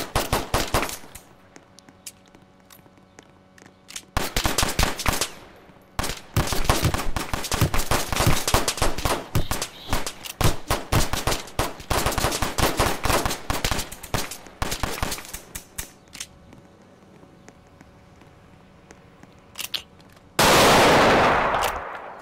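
Gunfire in a gang war video game, loud bursts of rapid automatic shots in dense clusters separated by short pauses, ending in a sharp noisy blast.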